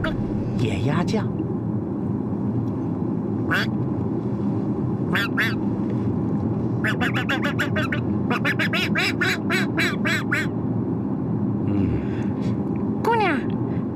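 A man imitates wild ducks with a series of nasal quacks, single calls at first and then a rapid run of them, heard over a steady low engine rumble inside a moving vehicle.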